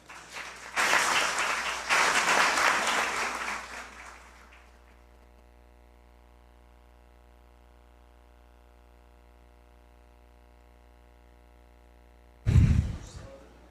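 Loud applause for an honoree at a municipal council ceremony in Petrópolis, filling the first four seconds, then near silence with a low hum before a short burst of noise near the end.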